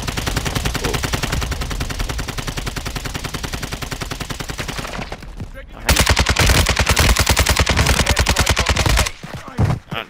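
Sustained automatic gunfire in a shooter video game, rapid loud bursts rattling continuously, pausing briefly and then resuming even louder before cutting off in short final shots.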